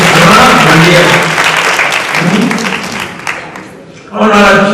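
An audience at a French spelling competition show bursts into loud, close applause that fades gradually, and then a voice speaks over the end.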